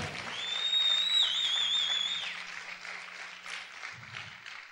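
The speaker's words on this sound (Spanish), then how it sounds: "¿Cuántos pueden aplaudir fuerte al Señor?" Church congregation clapping loudly during a prophetic teaching service, a sustained wash of many hands that gradually fades, with a high whistle ringing over the first half and a brief murmur near the end.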